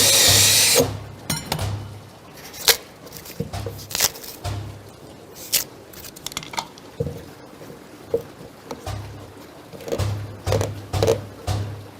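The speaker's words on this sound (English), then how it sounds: "If I continue to drill," Short bursts of a power drill whirring into wood, starting and stopping repeatedly, with clicks and handling noises between the runs.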